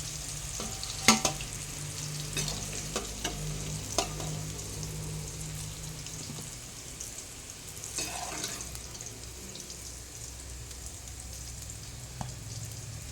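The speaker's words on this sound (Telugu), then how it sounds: "వేగాలి, లైట్గా వేగాలి ఫ్రెండ్స్." Bitter gourd and tamarind leaves fry lightly in a pan, a steady close sizzle with scraping stirs and occasional clinks of a spoon against the pan, no one talking.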